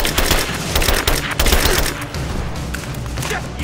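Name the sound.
gunfire from a video game, Rise of the Tomb Raider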